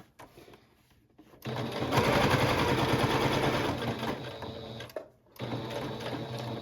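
A sewing machine stitches through four layers of fabric: a faint start, then a loud, steady rapid run that pauses briefly near the end and resumes, heard close with no talk over it.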